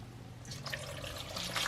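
Liquid, about 25 ml, poured into a glass for a home gluten test, a soft close trickle and splash building over a couple of seconds, quiet and with no talking.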